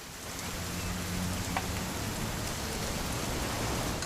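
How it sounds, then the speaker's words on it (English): Rain pouring in What Remains of Edith Finch, a broad steady hiss that swells slightly after the start and stays constant, with a low rumbling undertone and no speech. "It's gonna rain the whole weekend,"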